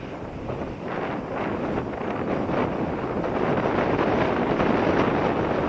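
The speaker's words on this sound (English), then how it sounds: "Fortunately the wind's holding pretty steady here." Steady wind roars across the microphone outdoors while a model glider is flown, a continuous loud rushing noise that builds slightly toward the end.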